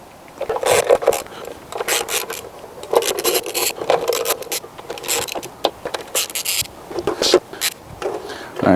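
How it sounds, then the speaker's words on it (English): A Torx T20 driver works loose the engine cover on a Peugeot 206, with close, uneven scraping, rubbing and plastic clatter in short irregular bursts, some faint voice mixed in. "To remove this cover we need a Torx"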